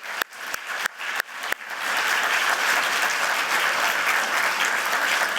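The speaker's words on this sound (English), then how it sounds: "So another round of applause for all 8 of them." A few sharp claps ring out, then a full audience breaks into loud sustained applause for eight presenters at a design school welcome back event.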